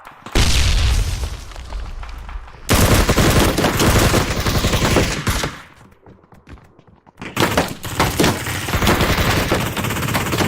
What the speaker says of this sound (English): Trading shots back and forth